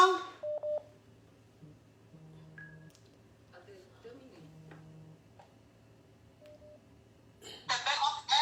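Short keypad tones enter a code on a telephone, a few separate steady beeps spaced apart at moderate level, with faint background sounds and a brief burst of noise near the end.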